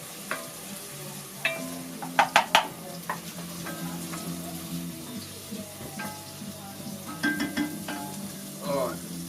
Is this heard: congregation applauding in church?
no